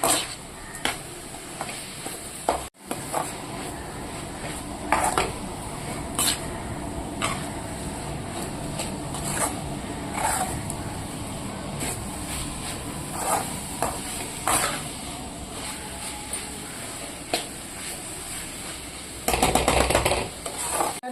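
Spices are sautéed in a pan for curry leaf kuzhambu, a continuous low sizzle broken by intermittent utensil scrapes and clicks against the pan, with a burst of sharper rattling near the end.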